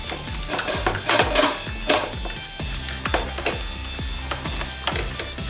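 Plastic filter cap being unscrewed on a Dyson Ball Animal 2 vacuum, a series of close, distinct clicking and ratcheting taps at irregular intervals, alone with no speech.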